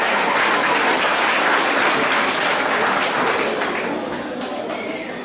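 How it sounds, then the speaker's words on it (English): An audience at a primary and junior high school event claps steadily in dense, loud applause that slowly fades toward the end. "Give them a round of applause once more."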